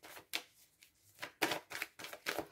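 Tarot cards riffle and slap in a series of close, soft bursts as the deck is shuffled and cards are drawn, quiet with no talking.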